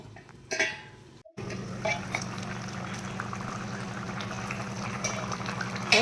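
Goat intestine curry, Thanjavur style, simmering in a pot under a lid, a steady bubbling boil after a brief clatter and a short gap of silence at the start.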